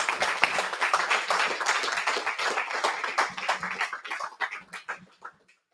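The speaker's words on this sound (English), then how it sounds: "another round of applause" A round of applause from the audience at a Python programming meetup for two speakers, brisk dense clapping that thins out and tapers to a few scattered final claps before stopping.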